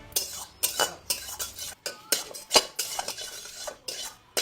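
Pots, pans and metal utensils clatter and clang in a home kitchen during cooking, a rapid irregular run of sharp metallic knocks and scrapes, close and fairly loud, with no voices.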